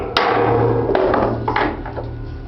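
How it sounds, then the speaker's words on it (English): A hammer taps a part tight on a Soldner clay mixer: a sharp close metallic strike, then a few lighter knocks over a low steady hum. "give it a a good little tap to tighten it"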